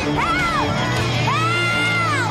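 Freaky doll people in a Goosebumps episode cheer together in an eerie, rising chorus, two swooping whoops standing out over a steady crowd roar with a low hum beneath.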